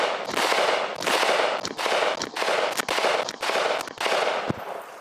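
Rapid strings of gunshots from a VKTR piston-driven AR rifle, fired quickly in several bursts of close, loud reports with brief gaps between them.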